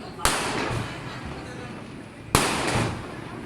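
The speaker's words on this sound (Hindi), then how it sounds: "बाहर पटाखों की बहुत ज़्यादा आवाज़" Two sharp firecracker bangs go off outside during Diwali a couple of seconds apart, each followed by crackling, heard at a distance over a steady background hiss.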